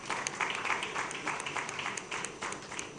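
A conference audience applauds a panelist being welcomed on stage, a faint, steady patter of many hands clapping at a distance for a few seconds.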